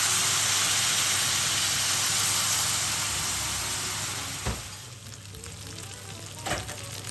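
Veal sweetbreads in a pan with morel soaking liquid, sizzling and frying loudly and steadily, then easing to a softer simmer with a couple of brief clatters near the end.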